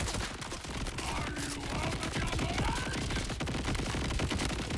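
Order assault rifle in Borderlands 4 firing nonstop in a dense, loud fusillade, shots blurring into a continuous roar with other game effects layered underneath.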